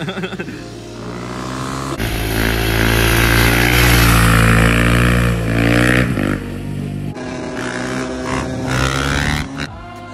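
A dirt bike's engine idles, then revs loud and close for several seconds, drops back, and rises again in shorter bursts.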